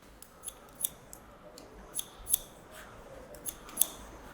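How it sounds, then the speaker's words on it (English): Scissors snipping hair during a men's haircut, lining out the ends; a sparse series of about ten short, crisp metallic snips at an irregular rhythm, close and fairly quiet, with no talking. "I'm going to use the scissors to line this out a little bit as well."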